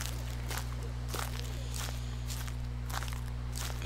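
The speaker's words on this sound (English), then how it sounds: "I swear to God, I just heard a footstep." Footsteps in the horror video game Slender: a steady series of about six soft, evenly spaced steps over a constant low electrical hum, with no talking.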